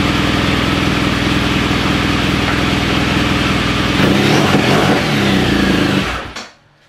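A motorcycle engine fitted with laser iridium spark plugs runs after a hard start, idling loud and close with a rough pulsing note, then briefly revving before cutting off abruptly near the end.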